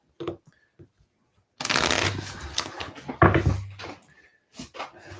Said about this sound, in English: Shuffle these in there too.